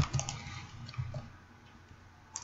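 Faint, scattered clicks of a computer mouse, a few soft ticks spaced irregularly over a quiet background, close but low in level, with no one speaking.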